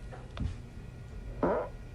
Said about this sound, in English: Alexa, I want you to fart for me.